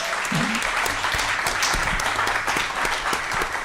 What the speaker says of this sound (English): let's give David and Michael a round of applause.